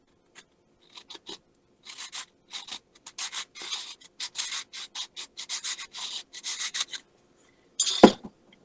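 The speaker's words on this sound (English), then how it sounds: "And that's how I cut my rocks and fit them together, and then use the file to fine shaping." Coarse flat file rasping across a model rock, a series of short scraping strokes in uneven bursts, close and fairly quiet, ending with a sharper louder scrape.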